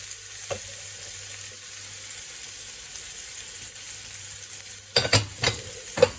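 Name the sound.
butter sizzling in frying pan with steak and peppers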